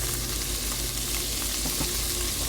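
Sliced onion fries in a pan with a steady, close, bright sizzle that crackles throughout and carries no speech.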